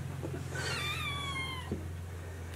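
A kitten meows in the attic of an Ohio house, one drawn-out wavering meow over a steady low hum, faint and somewhat distant.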